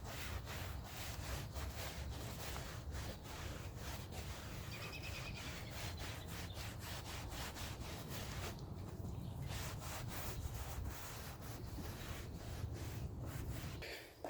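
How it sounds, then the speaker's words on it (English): A clean microfiber cloth buffs a freshly cleaned engine bay dry in quiet, repeated rubbing strokes, a soft steady scrubbing rhythm close by with no speech. "you just take a clean microfiber cloth and you buff dry"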